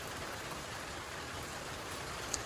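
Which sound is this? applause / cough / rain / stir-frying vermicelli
rain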